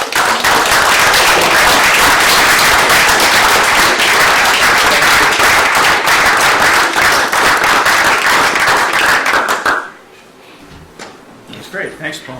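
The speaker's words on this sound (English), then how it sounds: "We want to give them all a good round of applause." Loud, sustained applause fills a room at a town selectmen's meeting, steady and dense for about ten seconds before breaking off abruptly into quiet murmuring room noise.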